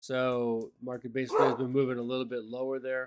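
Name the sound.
dog barking in the background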